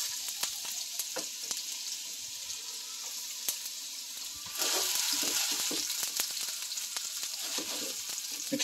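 A seasoned dory fillet sears in a hot pan after being flipped, giving a steady close sizzle that jumps louder partway through, with scattered crackles and pops and no talking.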